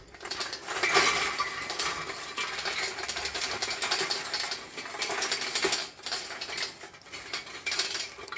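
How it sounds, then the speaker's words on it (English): Metal clattering and scraping as a cast iron PKGO hibachi grill is flipped over, a busy run of clinks and rattles close up with no talking. "I'm going to flip her over now."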